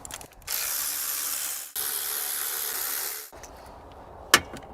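A ratchet spins rapidly in long steady bursts while loosening heat shield bolts on a 2002-2006 Toyota Camry 2.4 engine, two sustained whirring runs followed by a sharp metallic clack, close and alone.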